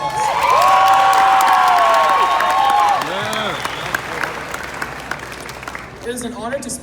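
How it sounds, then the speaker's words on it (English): Loud graduation crowd applause with cheering and whoops from the class of 2018, dense and steady for about three seconds, then thinning into scattered clapping and calls before a voice begins speaking. "Let's give ourselves a big round of applause."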